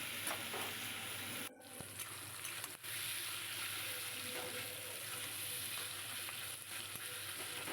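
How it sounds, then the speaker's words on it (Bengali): Taro leaves and hilsa fish being stirred in a frying pan with a spatula, a continuous close sizzle with scraping and stirring strokes and a few brief dips, no talk. "ভালো করে ঘাঁটতে হবে ঘাঁটলে একদম সম্পূর্ণ মিশে যাবে যতটা খুন্তির সাহায্যে ঘাটা যায়"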